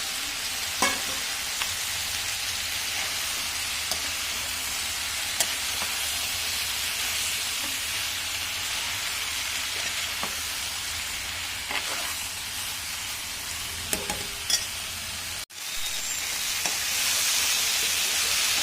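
Vegetables with soybean and tomato frying in a pan, with a steady bright sizzle and hiss running throughout, scattered small pops and clicks, and a brief drop near the end before the sizzle resumes.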